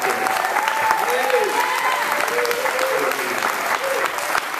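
A church congregation applauds warmly for a visiting evangelist, a loud, sustained wash of many clapping hands with voices faintly mixed in.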